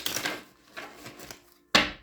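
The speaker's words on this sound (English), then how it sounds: "Get you some good shuffles in" Tarot cards are shuffled by hand in several quick riffling bursts separated by short pauses, ending in a sharper, louder snap of cards close by.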